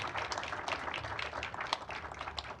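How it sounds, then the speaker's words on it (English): Audience applause welcoming a performer at a Martin Luther King Jr. remembrance event, a steady dense wash of clapping sustained for a few seconds with no speech over it. "And so I'd like for you to welcome, with applause, Mr. Nate Bray."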